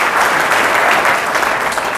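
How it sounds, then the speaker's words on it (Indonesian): Loud, dense clapping from a church congregation at an evangelistic revival service in Malang, East Java, a continuous close burst of applause with no talking over it. "Yang setuju tepuk tangan yang meriah bagi Tuhan"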